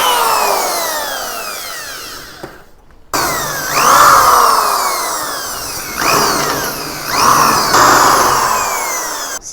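Power tool drilling out rivets on the rear hatch of a restored 1940s vintage teardrop trailer: a loud, whining drill whose pitch sweeps as each rivet gives, in repeated bursts with a brief pause partway through.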